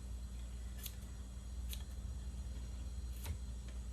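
Scissors snip through finished weaving along the back beam of a rigid heddle loom, three or four sharp, quiet cuts spaced about a second apart over a low steady hum.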